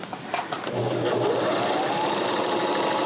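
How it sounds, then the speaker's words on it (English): A Viking Emerald sewing machine runs flat out at top speed, a loud steady whirring drone with a rapid needle clatter that stays constant after a brief start. "So as we're sewing along, get this pedal right where I can reach it. Okay, so here I've got it up to maximum."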